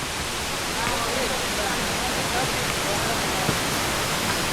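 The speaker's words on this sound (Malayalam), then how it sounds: "വീണ്ടും ഒരു വെള്ളച്ചാട്ടം എത്തി." A forest waterfall on a trek to Agasthyarkoodam pours in a dense, steady broadband rush, close and constant throughout, with faint voices underneath.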